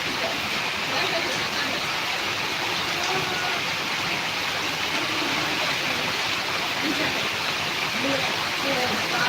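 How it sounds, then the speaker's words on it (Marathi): Continuous heavy downpour during extreme rainfall in Karnataka, a dense, unbroken hiss of falling water that stays loud and even throughout, with no pauses. "कंटिन्यू मुसळधार पाऊस चालू आहे"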